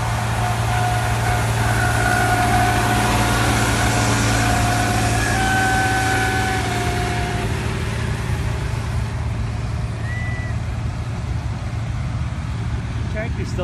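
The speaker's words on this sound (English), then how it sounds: "The tractor's still making some pretty good noise" A tractor engine runs steadily at an outdoor sandbag racing event in a parking lot, a loud continuous low rumble with a constant hum, while other motor noise and background activity blend in throughout.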